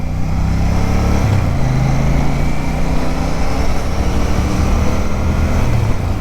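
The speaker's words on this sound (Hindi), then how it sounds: "अरे वाह, लड़की बाइक चला रही" A motorbike engine drones loud and steady as it passes on a road, a continuous low rumble with a slight pitch shift and no talking.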